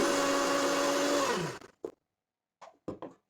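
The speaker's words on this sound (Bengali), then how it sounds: "এখন আমি আদা রসুনটাকে পেস্ট করে নেবো স্যুপের মধ্যে ও মোমোর পুরের মধ্যে দেওয়ার জন্য" Electric blender whirring loudly as it grinds ginger and garlic into a paste for soup and momo filling, running steadily for about a second and a half before cutting off, followed by a few short knocks and clatters.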